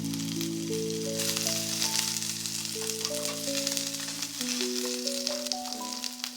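Onion frying in a thin pan on a low flame for fish goulash sauce, a continuous close sizzle and crackle with occasional stirring, a faint tonal hum and rising beeps sitting beneath it.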